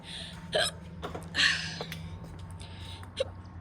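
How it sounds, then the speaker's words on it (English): A few faint, separate hiccups, about four, spaced irregularly over a quiet indoor background with a low steady hum. "Sorry, I have the hiccups."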